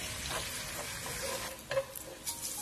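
Scallions, ginger, Sichuan peppercorns and onion frying in oil over medium heat for scallion oil, with a faint steady sizzle and occasional soft stirring scrapes.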